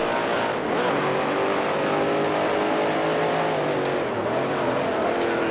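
A race car engine in the Grand Prix Legends sim, a 1971 Can Am car at Atlanta, drones loud and steady throughout, its pitch dipping and wavering as the driver downshifts to second gear for the first corner.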